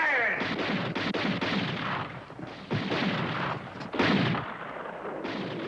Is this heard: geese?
no